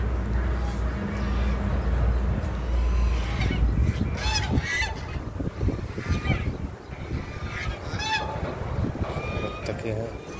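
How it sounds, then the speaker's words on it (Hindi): Ducks honk and quack repeatedly in bursts in a park over a steady engine-like rumble, with some talking mixed in. "ये वो बत्तख है,"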